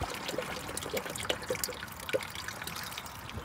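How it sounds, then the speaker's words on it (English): BlueDevil radiator flush is poured into the radiator of a Ford Ranger, giving a steady close trickle of liquid with small splashes and gurgles. "I'm going to dump in the BlueDevil radiator flush."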